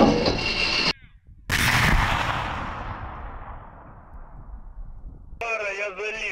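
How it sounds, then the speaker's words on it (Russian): A T-72A tank's main gun fires during live crew training. One huge blast is followed by a long rolling decay, and crackly radio voices are heard before and after the shot. "Выстрел."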